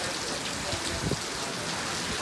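Heavy rain driven by strong wind pours down steadily in a dense, continuous hiss of drops on surfaces, loud and close, with no break across the short stretch.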